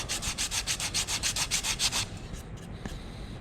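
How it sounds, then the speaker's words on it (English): Rapid rhythmic strokes of sandpaper wrapped on a block rubbing a wooden picture frame during final sanding, about a dozen brisk passes close up, then stopping, with a few faint handling taps after. "So I'm just going to kind of rotate my paper around my block so I have a fresh patch of sandpaper here"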